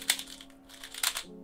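A GAN X 3x3 speedcube is turned quietly, giving two brief clusters of soft, crisp plastic clicks about a second apart. They sit close but low over a faint background hum.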